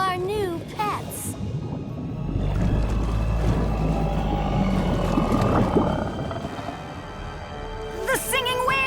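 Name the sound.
singing whales calling in Winx Club cartoon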